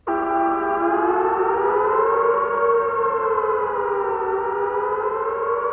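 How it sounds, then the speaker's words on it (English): A warning siren holds one loud, continuous wailing tone that rises and dips slowly in pitch, heard alone with no talk. "the following warning siren will sound in your homes."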